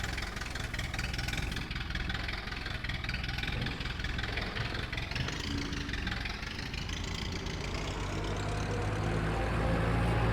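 An Ursus C-4011 tractor engine runs after starting, a loud, steady, rough diesel idle that rumbles continuously at close range with a slight rise in pitch toward the end.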